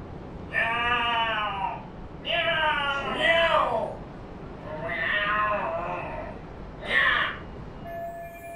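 In the video game Lost Judgment, a voice imitates fighting cats: a series of drawn-out, wavering yowls and meows in four or five separate bursts, fairly close and clear against a quiet background.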